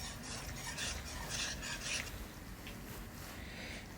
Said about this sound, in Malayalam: ഇത് വീണ്ടും നന്നായിട്ട് ഇങ്ങനെ ഇളക്കിക്കൊണ്ടിരിക്കുക